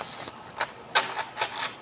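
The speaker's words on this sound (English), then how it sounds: "All right, let's shuffle." Tarot cards being shuffled by hand in a quiet room, giving a series of dry riffling bursts and soft flicks at irregular intervals, close and moderately loud with no voice.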